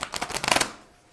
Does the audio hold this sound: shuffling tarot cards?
yes